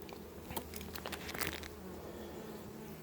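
Honeybees from a colony buzz faintly during a beehive inspection, a soft continuous hum with light tapping and crinkling handling noises scattered over the first half.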